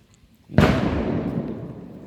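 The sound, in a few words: firecracker bursting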